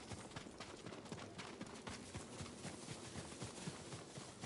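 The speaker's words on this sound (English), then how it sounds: "Horses, they're coming for us." Horses approach at a run in the video game Ghost of Tsushima, a rapid rhythmic clip-clop of many hooves, quiet and somewhat distant, pounding steadily with no voices over it.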